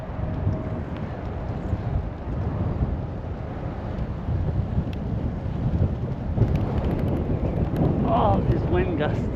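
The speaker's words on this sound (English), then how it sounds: "Oh, these wind gusts." Strong, steady wind buffets the microphone of someone cycling along a road, a continuous low roar that swells into heavier gusts toward the end, with a voice speaking over it.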